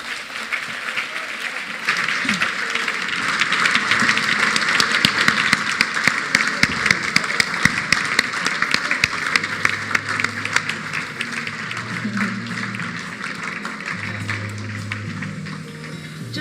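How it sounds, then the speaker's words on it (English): Sustained applause from a crowd of guests at a gala dinner and awards evening, dense clapping swelling then tapering over several seconds, fairly near and continuous, with faint voices and a low hum beneath. "Just a little while longer with that applause as Utata makes his way to his seat."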